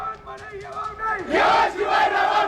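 Mahayuti party supporters in Nandurbar celebrate 2024 Assembly Election results with a loud crowd cheer that builds into a roaring chant-like shout, close and sustained.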